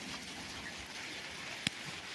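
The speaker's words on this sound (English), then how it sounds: "The hail's getting a little bit bigger." Small hail, little pieces of ice, falls during a thunderstorm and makes a steady dense patter. One sharp, louder tick of a stone striking stands out near the end.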